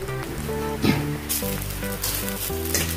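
Red chilli and fried onions go into a sizzling pan over low heat, giving a continuous crackling hiss with a brief splash of stirring midway.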